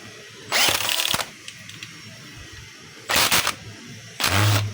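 A screw is tightened on a DeWalt DWE6411 finishing sander with a power driver. Three short, loud mechanical whirring bursts sound close up, with quieter gaps between them.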